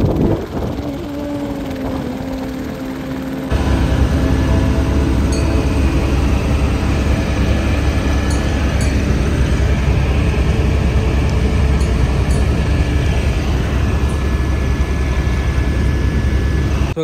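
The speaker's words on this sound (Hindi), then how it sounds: "अभी हम लोग का हेलीकॉप्टर आ चुका है" A helicopter at the Kedarnath helipad churns loudly and close, a steady throbbing rotor and engine roar that jumps sharply in intensity after a few seconds and holds constant to the end.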